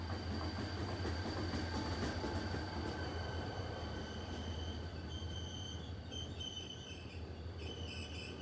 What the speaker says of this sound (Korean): 열차가 도착했어요.